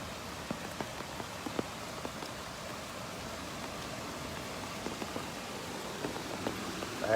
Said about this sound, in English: Did anybody else in Austin get this amount of rain?